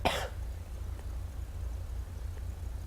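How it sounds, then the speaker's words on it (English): A single short, sharp cough bursts out at the very start, then gives way to a low, steady engine-like hum. "I had to cough there"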